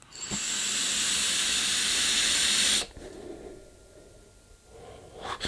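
A long draw on a Vapefly Siegfried mesh-coil vape kit gives a steady, close breathy hiss of vapor for about three seconds, then cuts off, followed by a quieter exhale.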